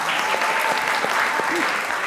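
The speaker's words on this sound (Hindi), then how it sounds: "तालियां" Studio audience applause on a Pakistani television talk show as a guest is welcomed, a dense, steady burst of clapping with faint voices underneath.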